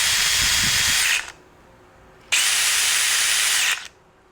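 A DeWALT DCD803 or Milwaukee M12 cordless drill/driver spins freely during a chuck runout check, with two loud steady high-pitched whirring bursts of about a second each separated by a short quiet pause.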